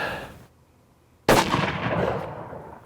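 A single loud, sharp rifle shot fired while sighting in an elk-hunting rifle at a range, with the report decaying over about a second after a near-silent pause.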